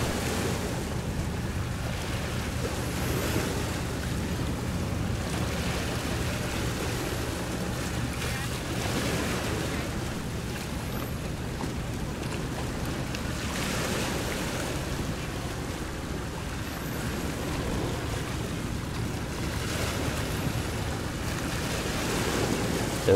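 A high-speed passenger boat runs at full power on the sea, its steady engine roar mixed with rushing water, waves and wind buffeting the microphone throughout.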